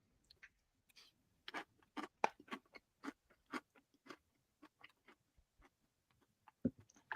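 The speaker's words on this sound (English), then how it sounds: "Crunch, crunch." Crunchy cereal is chewed in a quiet room, producing a series of sharp, close crunches in irregular bursts with brief pauses between bites.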